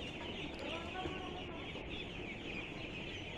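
Eight-day-old ducklings on a duck farm chirp and peep in a dense, continuous chorus, close and fairly quiet, with a voice talking over them.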